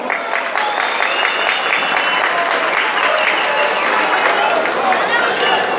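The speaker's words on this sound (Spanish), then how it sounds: "Los que quieran que el toro que siga adelante sea el Joker de Rancho El Sabilar de Ángel Pérez, que me regalen el aplauso." A large crowd applauds steadily at a bull competition, clapping loudly as a vote for a bull at a ranch event; the dense, continuous ovation fills the whole stretch without pause.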